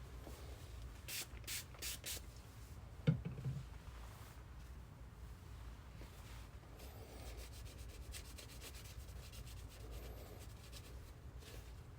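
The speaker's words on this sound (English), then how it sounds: "Next, let's clean off the temples." Soft, close rubbing and wiping as the temples of an eyeglasses frame are cleaned with a cloth, a steady low scrubbing texture with a few brighter strokes early on and one sharper handling knock near the middle; no talking.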